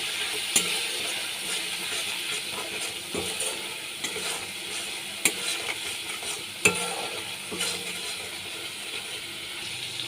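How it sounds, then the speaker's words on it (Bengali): Mustard and green chili spice paste with turmeric and salt frying in oil, a steady close sizzle broken by sharp scrapes and clicks of a spoon stirring against the pan, no voices. "এবার ভালো করে মশলাটাকে কষিয়ে নেব"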